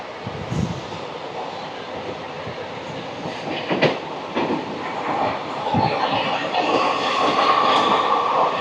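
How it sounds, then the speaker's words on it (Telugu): The Thiruvananthapuram Intercity Superfast Express rolls downhill at speed with rumbling wheels and intermittent clacks, the noise building louder toward the end. "ట్రైన్ అయితే డౌన్కి వెళ్తుంది, పైనుంచి కిందకి అయితే దిగుతుంది"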